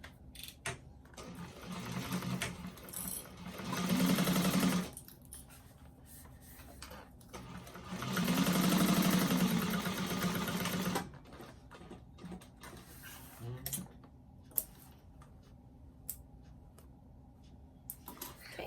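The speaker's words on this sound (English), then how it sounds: "And then sew it shut with a 1/2 inch seam allowance. Make sure you back stitch." Sewing machine closing a bag's bottom seam with a half-inch allowance and backstitching, whirring in two sustained bursts separated by quiet handling noise.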